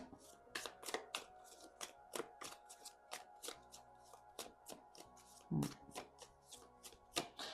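Tarot cards shuffled by hand in a series of quick crisp riffling bursts, close and fairly quiet, with a soft voice faintly underneath at moments.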